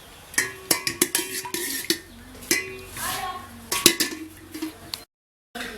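A spoon clinks against a cooking pot several times as a spoonful of ghee goes in for a village-style aloo chicken keema, sharp metallic taps in an uneven rhythm that stop before a brief silence.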